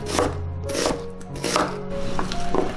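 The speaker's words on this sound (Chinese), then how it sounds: "再来切点姜粒，还有洋葱切小块" Ginger and onion are chopped into small pieces with a knife, giving a handful of close, dull knocks on a board at an uneven pace.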